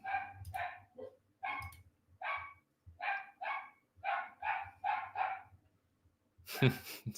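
Two dogs barking repeatedly outdoors at strangers, a steady run of about a dozen close, loud barks, ending in a brief louder rustling burst.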